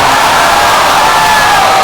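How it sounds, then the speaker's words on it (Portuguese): A concert crowd at a band show cheers and applauds during a marriage proposal on stage, a loud, dense, continuous roar of voices and clapping filling the whole moment. "bate uma salva de palmas para essa figura"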